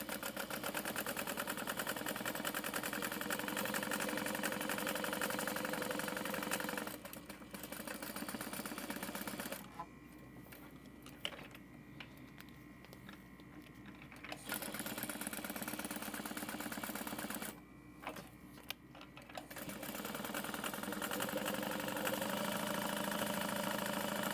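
A sewing machine stitches the long edges of a tote bag with glitter backing and stabilizer. Its motor gives a steady, close hum that stops briefly twice before it starts again.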